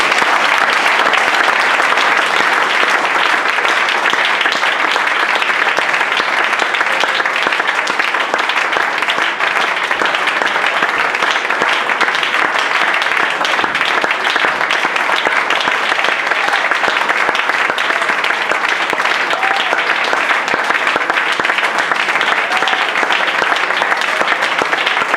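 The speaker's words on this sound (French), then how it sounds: "Est-ce qu'on peut acclamer?" A church congregation applauds and cheers together in a dense, steady roar of clapping that stays loud and unbroken for the whole stretch, with no voice speaking over it.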